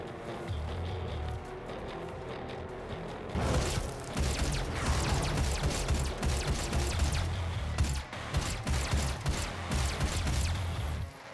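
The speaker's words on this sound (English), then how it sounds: "And explosions for you." Gunfire and explosions in the video game DOOM, a continuous mechanical rumble giving way to a rapid volley of sharp booming impacts and shots that keep firing at a steady loud level.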